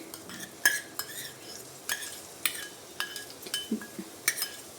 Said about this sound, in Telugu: ఆయిల్ హీట్ ఎక్కిన తర్వాత ఇందులో వెల్లుల్లిపాయ వేసేసుకోవాలి.